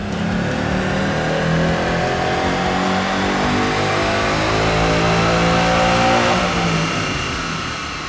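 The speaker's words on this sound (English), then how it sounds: "All right, Mike, we just got done making our pull here with all the mods and the tune uploaded" A modified 2015 Ford Mustang GT with an uploaded tune makes a dyno pull, its engine roaring loud and steady for about eight seconds, climbing in pitch before easing off at the end.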